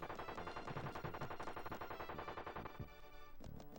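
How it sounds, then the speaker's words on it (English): Gunfire from an enemy airplane in the video game Bart's Nightmare, a dense run of rapid repeating shots layered over constant game music, close and loud throughout. "He's going to be flying an airplane, and you're going to hear him shoot"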